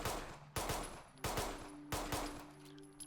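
A Colt 1911A1 pistol fires in Fallout 4, crisp shots landing in quick pairs, three close double taps spaced evenly, each ringing briefly into a quiet backdrop.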